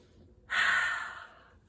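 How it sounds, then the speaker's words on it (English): A single deep breath drawn in audibly through the nose and mouth, close and fairly soft, rising quickly and tapering off over about a second, alone in a quiet room. "Take a nice big deep breath"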